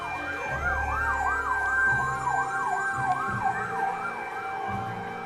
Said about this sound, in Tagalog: Oh, there's another fire truck coming.